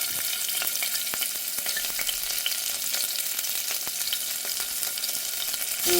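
Onions hit hot oil in a pressure cooker for a green chilli mutton kurma, giving a steady, close sizzle dotted with small crackles and pops throughout, with no voices.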